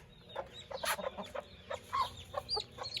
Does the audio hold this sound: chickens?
yes